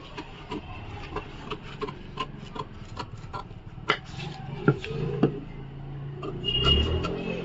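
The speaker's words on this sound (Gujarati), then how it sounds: "એના પછી આપણે આ ફ્રન્ટનું ગળું છે એ કટ કરી લઈએ." Scissors snipping through blouse fabric to shape the front neckline for a katori blouse, a close run of crisp irregular clicks and rasping cuts, ending in a denser rustle of cloth.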